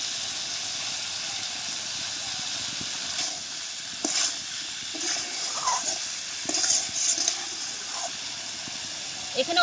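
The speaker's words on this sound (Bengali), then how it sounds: "ভাজা মাছটা দিচ্ছি।" Fried salted dry fish goes into a pan of coriander leaves and green chillies for a village-style Bengali dish, with a quiet sizzle and hiss broken by scraping stirring strokes, and a voice faintly in the background.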